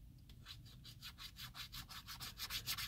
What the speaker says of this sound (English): Scratch off the stars.